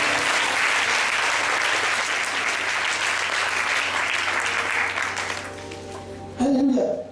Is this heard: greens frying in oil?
no